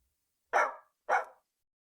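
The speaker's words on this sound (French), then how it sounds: "Il y a un chien qui aboie." A dog on a street barks twice, two short sharp barks about half a second apart, fairly close against otherwise silent surroundings.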